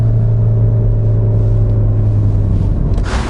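A Peugeot 508's engine drones loudly from inside the cabin, a deep steady rumble with a strong low hum as it accelerates hard after a downshift.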